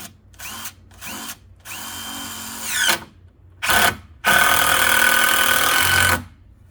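A power drill drives screws into the wooden roof of a small DIY firewood shed lean-to, with several short whirring bursts followed by one longer run close by.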